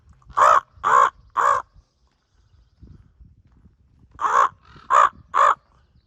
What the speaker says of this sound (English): Talk to this raven.